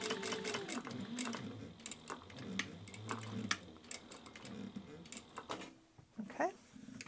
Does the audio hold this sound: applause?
no